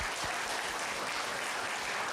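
A church congregation at a Filipino worship service claps, a broad, steady wash of applause at moderate volume heard from a distance, with no voices on top.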